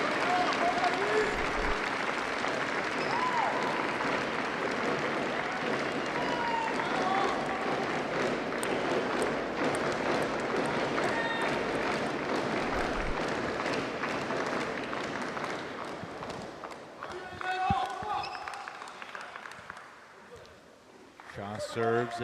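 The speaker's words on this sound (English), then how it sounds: "the crowd is certainly rooting for Jiwei." Crowd at a Major League Table Tennis match, Bay Area vs. Portland, applauds and cheers steadily and loudly for a long stretch, with commentators talking over it; the applause thins out and fades toward the end.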